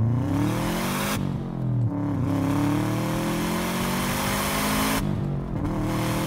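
A manual Subaru Forester STI Type-M accelerates hard, its engine note rising through the revs, then breaking off for a gear change, pulling again and shifting once more, loud and close from inside the car.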